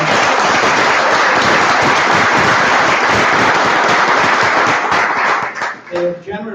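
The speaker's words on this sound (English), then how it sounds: "let's have a round of applause for them." Loud, dense applause from an audience at a talk on Holocaust and genocide education, steady broadband clapping filling the room for about five seconds before thinning out as a voice begins speaking at the end.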